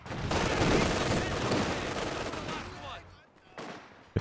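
Sustained machine-gun fire in the WWII strategy game Company of Heroes 2 rattles loud and steady for about three seconds, then drops away to a brief quieter gap and a final short burst, with a commentator talking over it.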